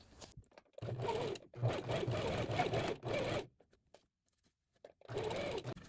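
A sewing machine stitches bias binding onto a V-neck women's blouse, running in several bursts of steady mechanical whirring separated by short pauses, close and fairly quiet.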